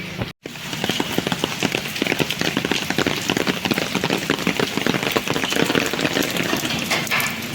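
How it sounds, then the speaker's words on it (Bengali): Steady rain falls in the Mudumalai tiger reserve forest, a dense, continuous patter of drops on surfaces, close and even throughout after a brief dropout at the start. "আবার বৃষ্টি, ভাল লাগে।"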